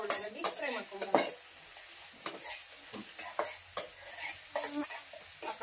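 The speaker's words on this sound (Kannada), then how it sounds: "ಅರ್ಶಿನ ಪೌಡರ್ ಹಾಕಿ ಈ ಖಾರ ಮತ್ತೆ ಉಳ್ಳಾಗಡ್ಡಿ ಫ್ರೈ ಮಾಡ್ಕೊಂಡ್ಬಿಡ್ತೀನಿ." Onion, chilli and turmeric powder frying in a pan for a home-cooked packed meal, with repeated sharp spoon scrapes and stirring strokes over a light crackling sizzle, close by.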